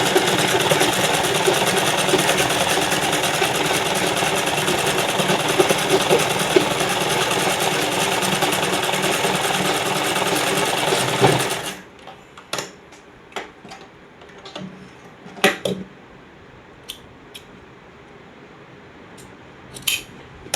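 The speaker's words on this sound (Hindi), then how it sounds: "यहाँ से वापस ले जाएंगे ताकि सिलाई पक्की हो जाए।" Sewing machine stitching a kameez seam, running loud and steady for about eleven seconds and then stopping, followed by scattered clicks and fabric handling.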